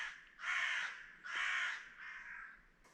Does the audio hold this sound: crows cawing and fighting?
yes